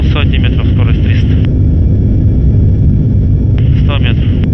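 Steady, loud roar of an empty An-124 cargo plane's engines climbing steeply after takeoff, with a faint voice over the drone at the start and end.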